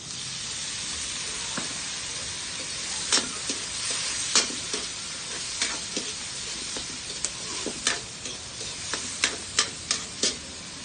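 Tomatoes sizzle in a pan over a smoky wood fire, a steady hiss punctuated by sharp clicks and scrapes of stirring that grow more frequent toward the end.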